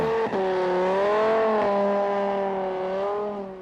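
A Dodge Viper muscle car on a drag strip, fitted with a custom nitrous oxide setup and a supercharger, holds a loud, steady engine drone that rises in pitch and keeps a sustained tone, with no talking.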